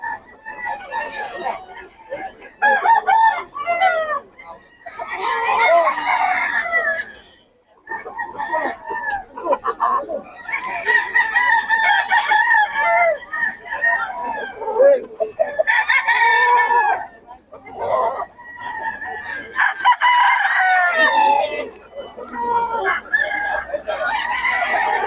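Gamecock roosters for sale at a market in Bocaue, Philippines, crow repeatedly in drawn-out calls, loud and close, with people talking over and between the crowing.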